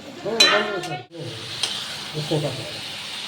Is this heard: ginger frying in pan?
yes